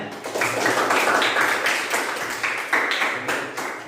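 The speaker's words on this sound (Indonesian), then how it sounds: "Tepuk tangan dulu semuanya." Audience applause after a group discussion in a classroom or presentation setting, a dense, steady burst of many hands clapping close by for several seconds.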